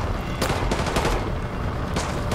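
Bursts of gunfire in Call of Duty: Modern Warfare 2 Remastered, No Russian mission, several sharp volleys over a constant background din, no talk.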